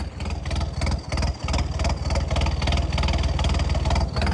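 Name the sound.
tractor engine running in heavy rain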